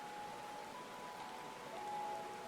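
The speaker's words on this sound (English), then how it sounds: "It's raining, everybody." Steady, faint rain hisses evenly in a Final Fantasy XIV VR game world, a soft continuous wash without talking.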